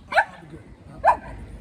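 A small dog gives two sharp, separate barks about a second apart, loud and close, with faint low background noise between them.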